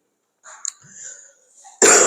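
A man coughs once, loud and close, in a sharp harsh burst at the end, after a quieter throat-clearing rasp and breathy sounds.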